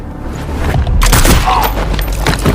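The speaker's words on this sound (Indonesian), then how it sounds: "membuat baku tembak pun terjadi" A film shootout erupts as police officers, backed by the FBI, trade fire with a gang: a loud, dense burst of gunshots and booms breaks in after about a second and keeps rattling on to the end.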